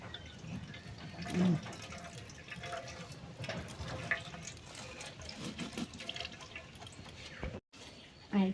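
Water drains and drips from soaked lentils set in a strainer overnight, a soft trickle with scattered drips and a few louder splashes, fairly close.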